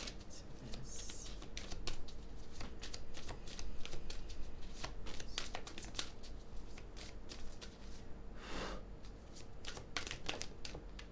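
Tarot cards shuffled by hand, close and quiet, a long run of crisp riffling flicks and taps in uneven bursts, with a brief soft rustle near the end.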